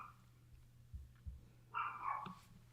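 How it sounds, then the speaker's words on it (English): Dogs bark somewhere in the background, a few faint, distant woofs in quick succession over a quiet room hum. "You're going to hear dogs barking in the back."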